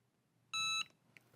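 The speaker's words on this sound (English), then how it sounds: "when the timer is done, it will alert us" A heat press timer gives a single bright electronic alert beep of about a third of a second, clear and close in a quiet room, followed by faint handling noise.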